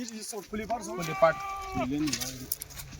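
Kathiawari goats bleat repeatedly at close range, their wavering cries overlapping for most of the few seconds, with a busy farmyard murmur behind them.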